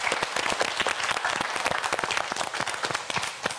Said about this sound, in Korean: 우리 편소정 학생에게 여러분 다시 한번 마지막으로 큰 박수